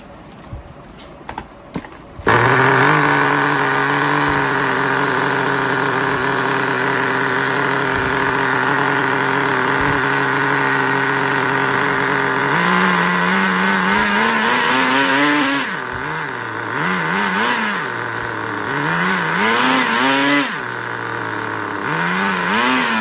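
A fuel-powered HSP 1/10 scale RC buggy engine starts after a few brief pulls, then settles into a loud, steady high-pitched buzzing idle before revving up and down in rising and falling bursts near the listener.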